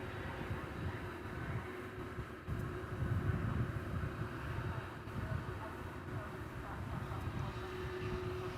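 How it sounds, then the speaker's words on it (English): A Boeing 787-9 Dreamliner turns on runway 18 left at DFW Airport at night, its engines giving a steady distant low roar and hum with a faint tonal whine that swells slightly midway, while people talk quietly over it. "It's a 787-9 Dreamliner. About to make the turn on runway 18 left."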